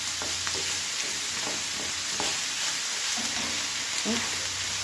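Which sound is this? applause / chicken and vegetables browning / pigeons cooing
chicken and vegetables browning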